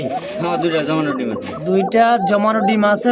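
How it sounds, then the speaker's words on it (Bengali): A male pigeon coos in low, throaty rolling phrases close by, heard under a voice talking over it. "নরের ডাক দেখছেন"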